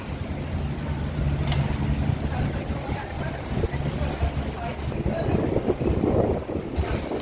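A boat laden with sand chugs along a fast-flowing river, its low engine drone steady beneath wind buffeting the microphone and rushing water, while someone talks over it.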